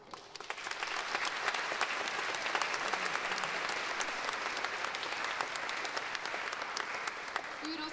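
An audience at a band concert at the Milwaukee Art Museum applauds in a steady, sustained wash of clapping from many hands, holding at an even level throughout.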